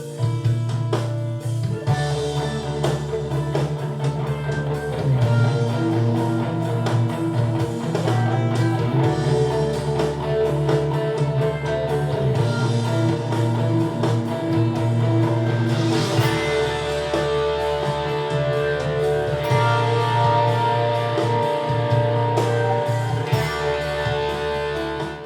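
Electric guitar melody with crunch drive and a heavy dual delay set to quarter-note and dotted-eighth repeats, ringing over a full band track for about twenty-five seconds, steady and loud with no talking.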